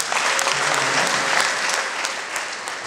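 Dense crowd applause at a wedding reception, a steady wash of many hands clapping close and loud without a break.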